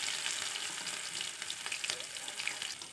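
Ginger and garlic fry in hot panch phoran oil for a capsicum bharta, giving a steady, fairly soft crackling sizzle with no pauses or voices.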